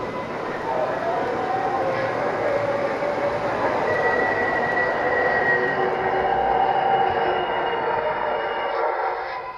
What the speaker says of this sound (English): This is a 4 Lexington Avenue express train.